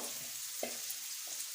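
Onions frying in oil in a home kitchen pan, a soft steady sizzle with a couple of faint stirring scrapes, heard up close and quiet.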